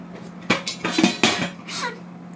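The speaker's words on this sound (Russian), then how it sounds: "Это у меня тут сковорода." A frying pan is handled in a home kitchen, giving several sharp metallic clanks and scrapes in quick succession, close and fairly loud, with a lingering clatter between hits.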